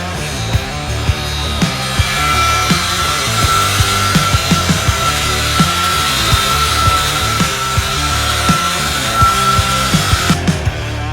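A loud, continuous circular saw runs through wood for a self-watering planter with a steady whine, punctuated by frequent knocks and rattles, close by with no talking.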